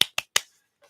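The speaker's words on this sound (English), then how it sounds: "I am here tonight to give you a golf clap" Quiet golf clap into a microphone: three soft, sharp claps in quick even succession, close and dry, followed by a faint rustle.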